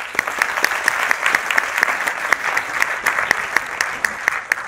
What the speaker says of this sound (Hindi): तालियां चाहूंगा आपसे।